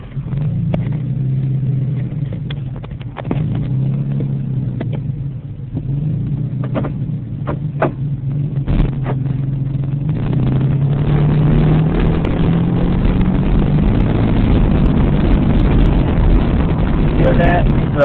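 A 1999 Ford Taurus engine hums steadily while driving, a low, continuous drone that rises slightly in pitch partway through, with brief clicks and a person talking over it early on.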